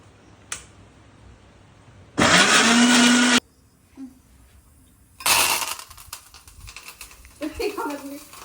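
A kitchen mixer grinder whirs loudly through a batch of coconut and green chillies in a short burst of about a second, then cuts off; a second, rougher burst follows with clatter and household noise around it.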